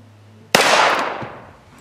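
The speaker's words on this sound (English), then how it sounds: "So we're gonna go to a slower pistol now, 45 ACP. All right, so we've got a 1911, 45 ACP." One sharp shot from a 1911 pistol in .45 ACP fired at DIY vehicle bulletproofing material, a loud crack with a ringing tail fading over about a second.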